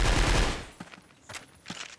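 A KSG shotgun fires in a shooter video game: a loud, dense burst of gunfire opens the moment, followed by a few sharper, isolated shots or impacts spaced apart, with no talk.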